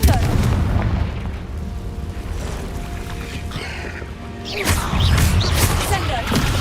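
The Confringo fire spell goes off in Hogwarts Legacy as loud booming blasts over a continuous rumble, with a heavy burst near the start and another strong eruption later, and a voice talking through it.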